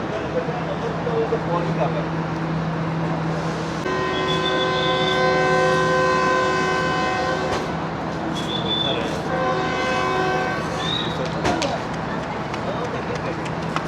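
The 39 Up Jaffer Express, a locomotive-hauled train, moves out from the station with a steady rumbling run, broken by long sustained horn blasts and a station bustle with people talking nearby.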